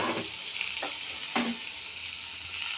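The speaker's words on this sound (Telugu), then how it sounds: "ఇవి కూడా ఆయిల్ వేసుకొని వేయించుకోవాలి" Chopped red onions fry in oil with a constant close hiss and sizzle, joined by a few faint clinks from stirring.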